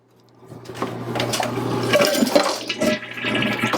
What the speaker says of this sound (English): one last flush